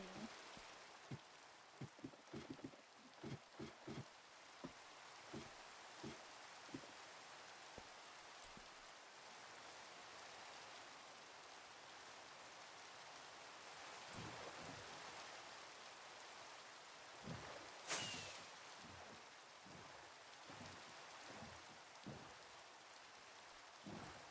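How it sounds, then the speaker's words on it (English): Steady rain patters across a surface, with scattered heavier drops and clicks punctuating the continuous hiss. "Oh, it's raining."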